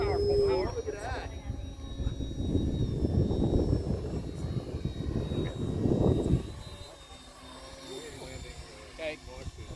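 A 3D-printed model plane's electric motor whines as it takes off and flies, loud at first, then fading and returning, with people talking nearby.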